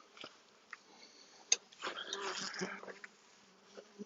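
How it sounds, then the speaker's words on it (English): Honey bees buzzing at an opened frame from the Mountain Queen hive during an inspection, faint close-up buzzing in short bursts with a louder swell in the middle and quiet gaps between. "You can see a bee just emerging from its cell."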